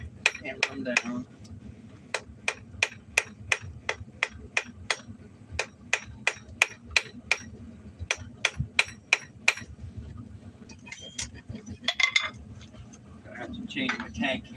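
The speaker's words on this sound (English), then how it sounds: "Knock them corners off. Hammer them down." A blacksmith hammers a hot metal scroll pendant on an anvil, sharp ringing blows in quick bursts with short pauses, close and loud, with a voice talking near the end.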